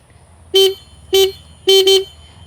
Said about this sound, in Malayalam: ഇതാണ് ഇതിൻ്റെ ഹോൺ